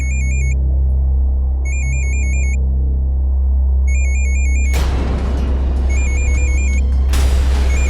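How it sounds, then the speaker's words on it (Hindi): A mobile phone rings in a repeated electronic tone pattern, three clear bursts of ringing over a steady low rumble, followed by louder bangs and clatter as the ringing continues faintly. "ये देखिए फोन बज रहा है आपका।"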